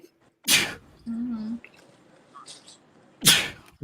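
Two sharp, loud sneezes burst out a few seconds apart, with a brief murmured voice between them.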